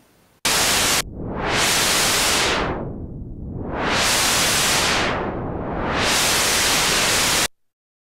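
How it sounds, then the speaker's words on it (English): Loud hissing white noise that sweeps repeatedly between bright and dull, like wind gusting, starting and stopping abruptly. "the white noise oscillator, which is very useful for creating percussive sounds and sounds like wind"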